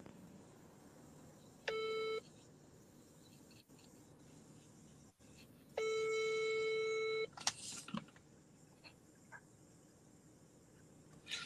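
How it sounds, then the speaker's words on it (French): Phone call beeping tones arrive as two electronic bursts, one short and one longer steady tone, over quiet room noise with scattered clicks and faint background sounds. "Il y a quelqu'un qui appelle sur mon téléphone"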